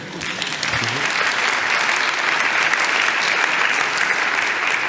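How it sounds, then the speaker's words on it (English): Sustained audience applause fills a conference hall after a question at a UIST 2018 talk, steady and dense clapping throughout without voices. "That applause is for Albrecht's question."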